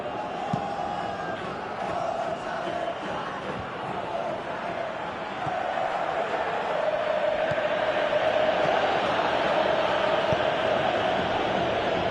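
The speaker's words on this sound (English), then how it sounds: "you can feel and hear how the crowd are reacting to all of this." Stadium crowd in the football video game PES 2018 keeps up a dense, distant roar that swells louder toward the end, with commentators' voices faintly present.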